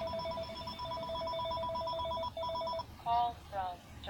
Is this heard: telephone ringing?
yes